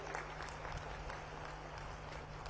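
A large audience at a political rally in Bastar claps together in sustained, dense applause for a few seconds, steady and fairly distant, with no voice over it.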